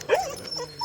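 An abandoned bulldog-breed dog lets out a brief, close, high whimpering whine, heard outdoors on an early morning walk.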